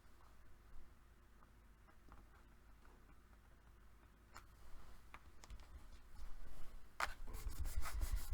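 A hand tool burnishes a surface down with soft, steady rubbing strokes, faint at first and then growing louder and scratchier, with a few sharp clicks near the end.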